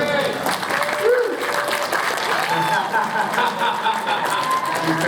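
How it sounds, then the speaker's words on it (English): Convention crowd clapping for a costumed fan during a Flash Q&A panel, a steady wash of applause under continuous amplified talk and laughter throughout. "Everyone give her a round of applause."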